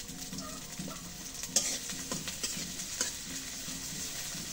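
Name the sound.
chili and onion frying and being stirred in oil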